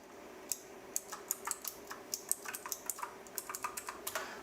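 Quick, light keystrokes on a computer keyboard as a Wi-Fi password is entered on a Linux machine, a close, steady run of about two dozen soft clicks against a quiet hum.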